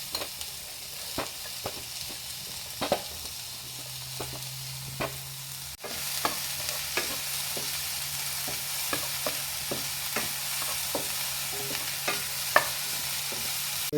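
Onion frying in oil for paneer paratha, a steady broadband sizzle that grows louder partway through, with scattered clicks and scrapes of stirring, no voices.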